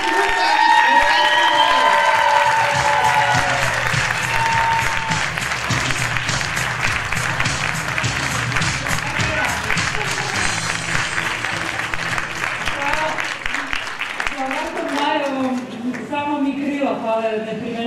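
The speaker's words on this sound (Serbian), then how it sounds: "Pozdravite sa jednim velikim aplauzom" A live audience applauds a singer at a show, with sustained clapping and some cheering filling the room. It starts over a held sung or musical tone and then continues as dense, even applause, while voices break in near the end.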